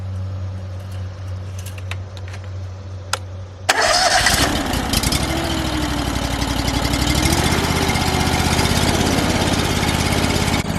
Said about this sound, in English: This is the Honda 690, and I always check the oil before I start it up.